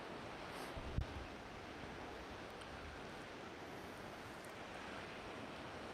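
Ocean inlet waters of Puget Sound wash in a continuous, soft surf hiss, with wind buffeting the microphone and a brief thump near the start, heard alone without voices.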